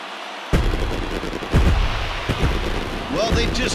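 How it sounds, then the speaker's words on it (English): A stadium crowd roars after a World Series win in a baseball video game, a dense continuous cheering wash with claps and bursts, while voices talk over it. "this stadium is rocking right now as they celebrate something they'll remember forever"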